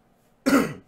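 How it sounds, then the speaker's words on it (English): A single throat clearing, close and fairly loud, lasting about half a second with no other sound around it. "I might need to clear my throat here for a sec."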